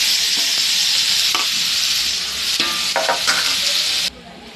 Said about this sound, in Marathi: आता आपण टाकूया ते मॅरिनेशन केलेलं शिमला मिरची